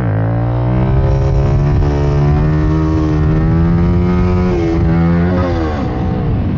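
A Honda CRF300L motorcycle with a tuned ECU accelerates in second gear, its single-cylinder engine droning loudly and close, the pitch climbing steadily as revs build, then wavering briefly near the end.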